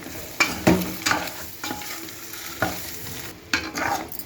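Eggs stir-fried with chilli powder, coriander powder and garam masala in a pan, a soft sizzle broken by repeated scraping strokes of a spatula at an irregular pace, close and without talk.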